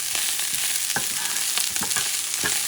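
Culantro and cilantro are stirred quickly in a hot pan with sizzling oil, the scraping strokes coming in short irregular bursts over a steady frying hiss.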